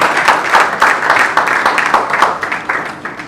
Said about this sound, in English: let us give ABIA and our governor a round of applause for them